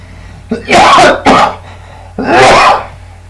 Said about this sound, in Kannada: ಹೆಚ್ಚಿಗೆ ಮಾತಾಡಿದ್ರೆ ಕೆಮ್ಮ ಬರುತ್ತೆ